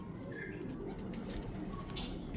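A pure green-speckled French pigeon coos softly, low throaty calls repeating over a constant rumbling background, faint and close.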